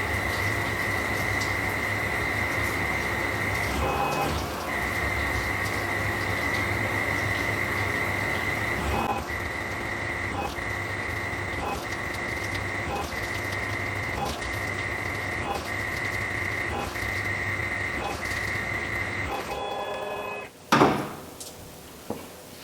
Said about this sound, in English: I've already got our program, and we're going to cut our M8x1 threads.